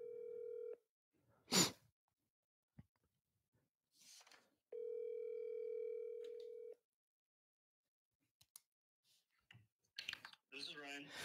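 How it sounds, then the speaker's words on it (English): A telephone call being placed: two long, steady ringback tones separated by silence and scattered clicks, then a brief burst of voice at the end as the line picks up. "We're going to try to call Ryan right now."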